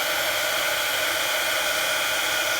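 A heat embossing tool blows a loud, steady, hissing whir while melting embossing powder on a lace card. The airflow stays unbroken and constant throughout, with no voices.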